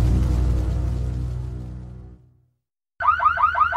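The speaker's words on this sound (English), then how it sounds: "the building filled with a fresh onslaught of whooping alarms" A building alarm sounds in a fast repeating whooping pattern, loud and close, coming in after a deep rumbling swell fades to silence.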